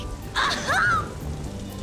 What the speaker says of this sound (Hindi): मुंबई की बारिश कितनी मस्त है ना दी।